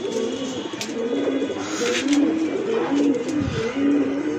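A female pigeon coos on a rooftop, a steady run of low, throaty, repeating coos close by with faint background noise.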